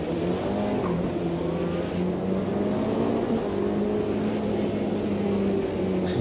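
A race car engine in the AMS2 racing game, a high-downforce IMSA GTP prototype on the Long Beach street circuit, drones steadily and loud for the whole stretch, holding a sustained, slowly shifting tone with no talk over it.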